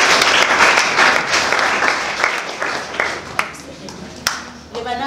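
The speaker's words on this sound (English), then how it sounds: "Can you clap your hands for yourself?" Schoolchildren at a primary school clap their hands in lively, scattered applause that thins out into a few stray claps and sharp taps, with voices speaking over part of it.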